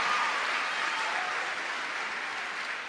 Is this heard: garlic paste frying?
no